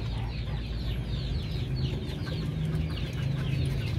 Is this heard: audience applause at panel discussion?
no